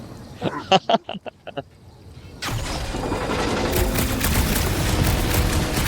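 Gunfire in Marvel's Guardians of the Galaxy video game, starting with a few separate sharp shots and then breaking into a loud, sustained barrage of rapid blasts and crashes.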